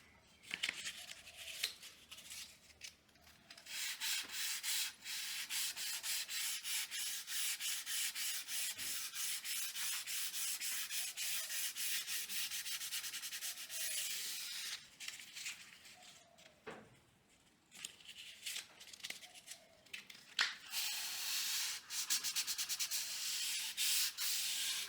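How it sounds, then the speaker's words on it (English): Wood being hand sanded with 400 grit sandpaper, a close, steady rasping rub in long continuous passes, with brief pauses between strokes and no talking. "I hand sanded all the edges and finished the top with 400 grit sandpaper"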